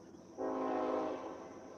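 A train horn blares loud and sustained over the rumble of a passing train at night, close by, then fades slightly while the rail noise continues.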